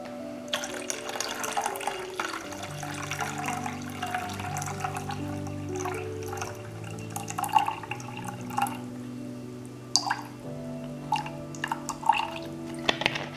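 Cold water pours steadily from a tap into a container for bread dough, the pitch rising as it fills, followed by a few drips and light clinks.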